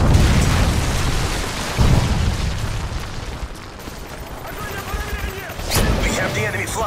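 Predator missile strikes in a multiplayer capture-the-flag shooter game land as loud explosive booms, the first near two seconds and a sharper burst near six, over continuous rumbling gameplay and announcer voice.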